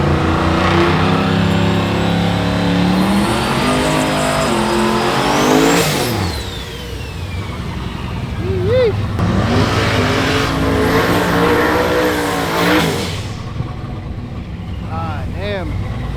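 A Dodge Demon 170 accelerates hard at a drag strip during a street car event, its loud engine revving up in rising sweeps with tire squeal and crowd or announcer voices mixed in beneath.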